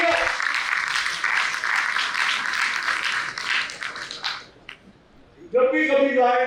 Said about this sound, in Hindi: इनके लिए तालियां, पीछे वाले तालियां